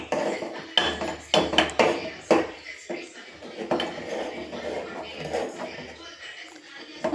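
A spoon clanks and scrapes against a pot as pearl millet porridge is slowly stirred, in irregular close knocks, with a person talking between them.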